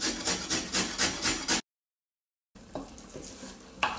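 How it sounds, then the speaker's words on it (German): A small carrot is rubbed across a kitchen grater in quick, rhythmic rasping strokes, a burst of about six close scrapes, then a silent gap and softer, irregular scraping afterward. "in dieser Zeit, bis das Butter jetzt schmilzt, werde ich meine kleine Möhre auf den Reiber reiben"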